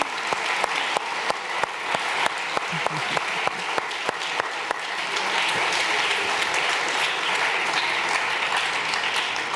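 Applause from an audience at an arts and entertainment industry forum, scattered at first and then swelling into steady, dense clapping that continues to the end.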